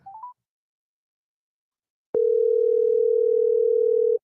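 A quick series of telephone keypad tones plays, then silence, then a steady, loud, continuous tone holds for about two seconds.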